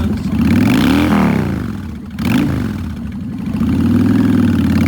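A 2006 Honda Shadow Spirit 750 V-twin cruiser motorcycle runs loud and close, its deep engine note dipping and swelling through two revs before settling back to a steady idle.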